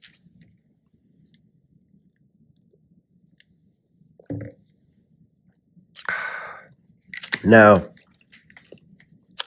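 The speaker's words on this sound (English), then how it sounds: "Let me get a swig of water before I kill this one." A man takes a swig of water from a bottle, with a short liquid slosh followed by louder close gulping and swallowing sounds after a brief spoken word, in an otherwise quiet room.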